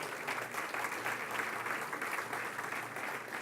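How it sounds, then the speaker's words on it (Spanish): A church congregation claps for the Lord during a Spanish-language sermon, a steady wash of dense applause filling the room without talk. "Denle un aplauso al Señor, lo puede hacer."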